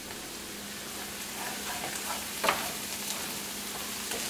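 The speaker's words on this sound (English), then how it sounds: "Looking for a nice golden brown on these onions." Onions sizzle and fry steadily in a pot, a continuous close crackle with a brief louder stir-like clatter midway and no voices.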